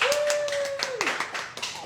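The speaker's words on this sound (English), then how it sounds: "Lots more whooping and cheering needed from the social media team at the back there" A studio audience claps in quick bursts, loud and close, while a voice talks over the applause.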